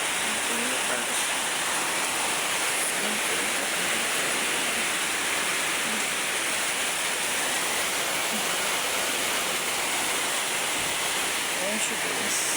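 Heavy rain pours steadily during a storm with flooding, a dense continuous hiss that is loud and unbroken throughout, with no distinct drips standing out.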